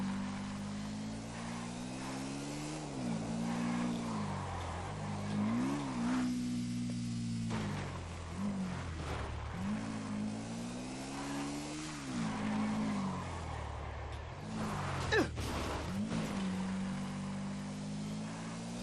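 Motorcycle engine in a video game scene, revving and shifting pitch repeatedly with rising and falling whines, close and steady throughout, with a brief sharp transient near the end.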